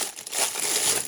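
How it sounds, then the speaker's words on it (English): Plastic wrapping around art supplies crinkled right at hand, a continuous bright crackling rustle that stays loud for about a second. "Sorry for all the crinkling."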